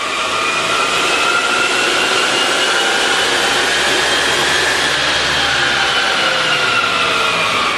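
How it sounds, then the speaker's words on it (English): A Tahoe fitted with a Magnuson supercharger runs hard on a dyno, a loud, continuous roaring whine that climbs slightly in pitch and holds for the whole stretch, with no voices. "Let's get this Saints Motorsports Tahoe back on the dyno and see what kind of power numbers we can put down to the ground."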